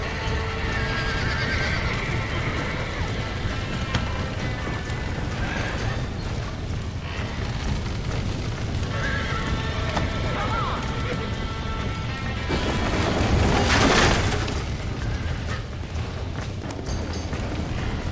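Horses in the Red Dead Redemption video game neigh and whinny while hooves gallop in a steady clip-clop, loud and close throughout, with a brief crash-like burst near the end and shouting voices mixed in.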